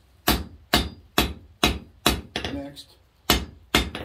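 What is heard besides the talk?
hammering steel while forging a firepit poker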